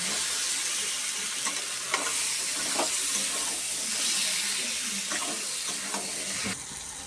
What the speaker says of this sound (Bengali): আলুটা দিয়ে ভালো করে কষে নেব।